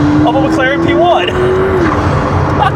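A McLaren P1 supercar hums along from the inside with a steady engine tone that rises slightly. People talk over the drive.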